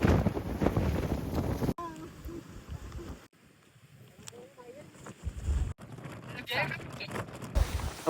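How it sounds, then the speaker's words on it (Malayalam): Strong gusty wind on the Chathurangapara hilltop roars against the microphone in surging waves, easing briefly midway before building again, with people talking through it. "എന്നെന്ന് പറഞ്ഞു കഴിഞ്ഞാൽ അതുപോലെ കാറ്റ് അടിച്ചുകൊണ്ടിരിക്കുകയാണ്."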